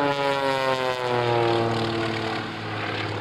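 A Samson stunt airplane at the 2004 Sussex Airshow holds its engine at full power through a tail slide and whip stall, giving a loud, steady propeller drone with strong harmonic tones that shift slightly in pitch.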